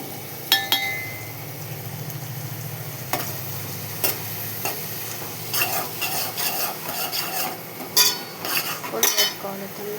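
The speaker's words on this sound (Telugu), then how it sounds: "వేగినాక పచ్చిమిర్చి, ఉల్లిపాయ, కరివేపాకు ఇందులో వేసుకోవాలి. అవి గోల్డ్ కలర్ వచ్చేదాకా వేయించుకోవాలి." Green chilies, onion and curry leaves frying in oil with mustard seeds until golden, a steady close sizzle punctuated by repeated metallic clinks and scrapes of a spoon against the pan.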